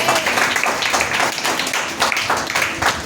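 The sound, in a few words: congregation clapping hands loudly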